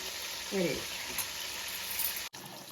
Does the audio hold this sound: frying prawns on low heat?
yes